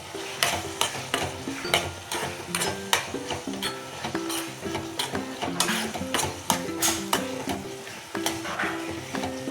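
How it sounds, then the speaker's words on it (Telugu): Ginger paste being stirred into a radish and tomato curry in a pan, a steady run of quick scraping clinks and soft sizzling taps, close and rhythmic, with no talking. "ఇప్పుడు దీనిలోకి అల్లం ముద్ద వేసుకోవాలి. బాగా కలుపుకోవాలి."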